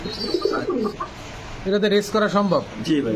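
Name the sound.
male racer pigeon cooing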